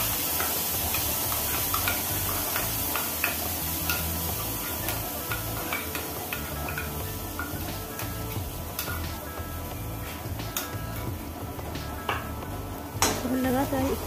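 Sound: spices sizzling in hot mustard oil while stirred

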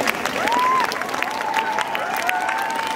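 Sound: applause

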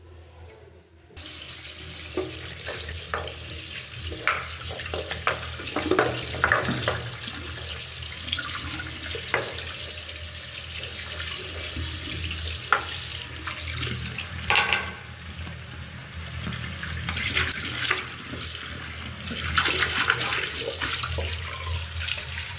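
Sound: running water, washing with soap

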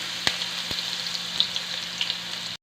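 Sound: onion and ginger sautéing in a pan

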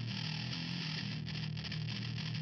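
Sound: doubled bass guitar with distortion

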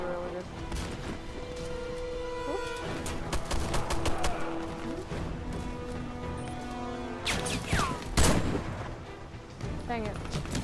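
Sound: gunfire from the video game Warface

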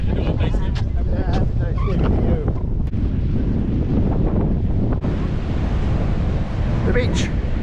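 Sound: wind and ocean waves on beach

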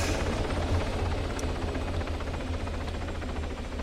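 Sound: helicopter flying overhead in the video game ARMA 3

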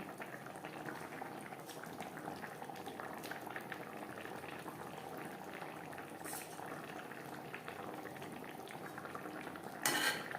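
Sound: fish curry with vegetables cooking in gravy

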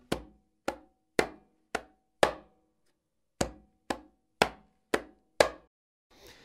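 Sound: conga bachata rhythm strokes

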